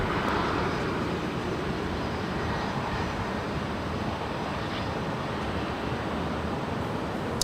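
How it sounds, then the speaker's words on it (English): A United Express CRJ-200 regional jet takes off from runway 24 left at LAX, its engines giving a steady, broad roar that holds at even loudness, heard from a distance without voices. "Lined up, ready to go there on 24 left is United Airlines United Express Flight 4770 heading to Fresno to CRJ 200 LR."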